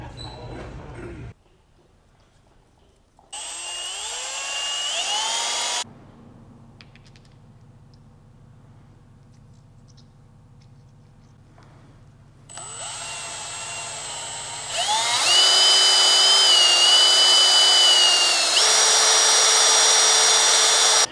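A rotary tool with a 180-grit sandpaper roll polishes a transmission gear for an Evo gearbox. Its high whine spins up in two separate bursts with quiet gaps between, and the second run grows louder and more sustained.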